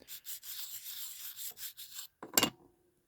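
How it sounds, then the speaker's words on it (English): An opal stone is rubbed by hand to shape it, giving a rhythmic gritty rasping of repeated strokes, close and steady, then a pause and a brief louder scrape. "let's do a bit more rubbing"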